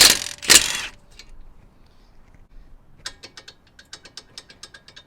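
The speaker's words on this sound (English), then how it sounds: "we're gonna be using 1/2-inch drive with a 70mm socket, and we're gonna take the top one off first" A 1/2-inch drive ratchet with a socket clicks in a quick run of sharp pawl ticks, close and clear, after a couple of louder clanks of metal on a Toyota Camry front suspension link.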